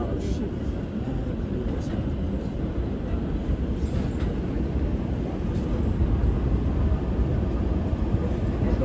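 An NYC subway R211T train on the G line near Carroll Street, running with a steady low rumble and rail roar, moderately loud and constant throughout, with faint speech buried under it.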